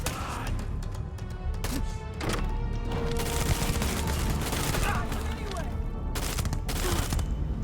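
Gunfire in the space game Starfield, a dense, sustained volley of rapid shots and impacts that stays loud and continuous across the whole stretch, with no pauses between bursts.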